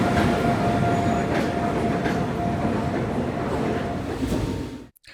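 A train at a busy railway station in Bengaluru late at night gives a loud, steady rumble with a faint sustained whine running through it, filling the scene before cutting off abruptly near the end.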